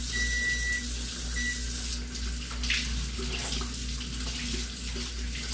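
Kitchen tap water running steadily while chicken is rinsed, a continuous hiss and splash at moderate level, with a few electronic beeps early on.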